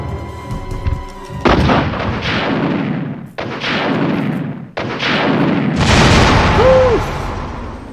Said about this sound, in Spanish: Mira qué realismo. Esa explosión, ese humo.